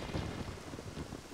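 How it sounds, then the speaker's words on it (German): Steady rain with a low thunder rumble in Zelda Ocarina of Time, a dense, even hiss that fills the whole short moment without any voices. "Und es regnet immer noch."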